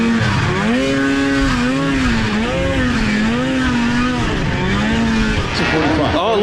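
Engines of cheap snowmobiles at a race roar continuously, their pitch rising and falling as the sleds lap and jostle, loud and close throughout.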